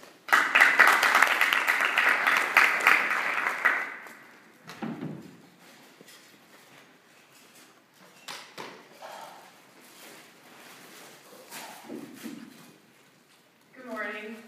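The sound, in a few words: audience applause for a speaker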